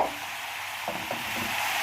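Onions tumble into meat already frying in a pot, giving a steady close sizzle with a couple of soft thuds and stirring scrapes partway through.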